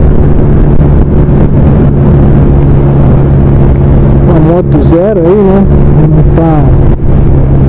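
A brand-new motorcycle cruises gently while its engine is being broken in below 4,000 rpm. A steady low engine drone sits under loud wind rush, and a rider talks over it.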